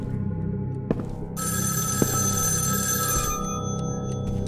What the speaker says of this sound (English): So let's answer the phone call.